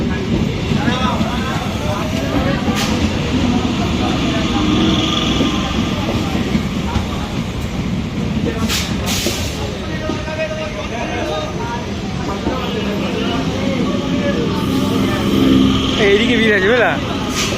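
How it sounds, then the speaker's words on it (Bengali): A passenger train rumbles along with a steady low roar and rattling, loud and close, while voices talk over it throughout. "এই আমাদের ট্রেন এখন ছেড়ে দিয়েছে"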